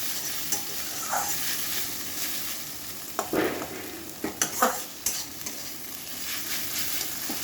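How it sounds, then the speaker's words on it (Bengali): Snake gourd sizzles steadily while frying in a pan, with a few louder scraping stirs breaking through the constant crackle partway along. "একটু নাড়াচাড়া করে একটু ভাজতে হবে"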